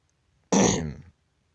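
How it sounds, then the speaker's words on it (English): A single short, raspy throat clearing, close and distinct, surrounded by near silence. "Sorry, I'm clearing my throat a lot."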